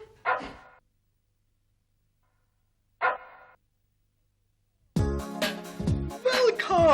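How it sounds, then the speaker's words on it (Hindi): Dogs bark in a clinic: two short separate barks a few seconds apart, then a louder burst of overlapping yips and barks mixed with animated cartoon voices. "क्लिनिक में भी कुत्ते?"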